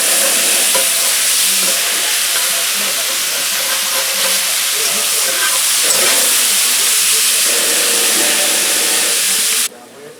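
Bacon frying in a pan, a loud steady hiss and crackle of rendering fat close by, with a person talking briefly over it before the sizzle drops away at the end.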